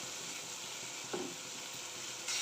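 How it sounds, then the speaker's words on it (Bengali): Spices and salt fry together in a pan for curry pakoda, a faint continuous hiss and sizzle with a couple of soft stirring bumps; no talk. "সব একসাথে দিয়ে মশলাটা ভালোভাবে ভেজে নেব।"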